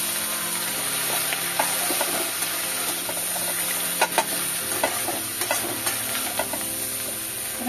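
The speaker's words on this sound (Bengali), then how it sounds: "এবার এটাকে একটু ভালো করে কষাতে হবে।" Spices sautéing in a pan on a gas stove: a constant bright sizzle with scattered scraping knocks from stirring, close and steady.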